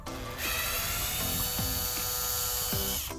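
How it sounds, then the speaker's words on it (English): A power drill whines steadily while backing out screws from the steering wheel of a 2015 Dodge Charger, its tone dipping briefly a few times under load, close up and alone. "you want to put your drill in here"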